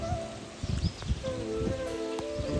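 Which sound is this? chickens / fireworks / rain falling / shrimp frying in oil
rain falling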